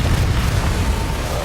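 A Confringo fire-blast spell explodes in the Hogwarts Legacy game: a loud, sustained booming rumble with deep low-end roar that holds steady for its brief length, no voices.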